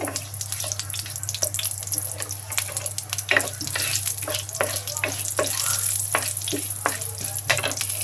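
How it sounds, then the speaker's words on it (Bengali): Whole spices (cinnamon, cardamom, cloves, black pepper, mace, cumin and bay leaf) fry in oil for a chicken curry, with a constant close crackling sizzle, sharp spitting pops and a low steady hum underneath, no voices. "দারুচিনি, এলাচি, লবঙ্গ, গোলমরিচ, জয়ত্রী দিয়ে দিয়েছি। একটু ভেজে নিচ্ছি।"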